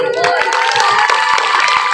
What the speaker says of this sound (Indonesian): Tepuk tangan Bu Haji Dede.